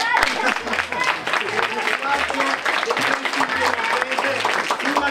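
Audience applause at a live show finale, with dense clapping and crowd noise running steadily throughout, mixed with voices and music underneath.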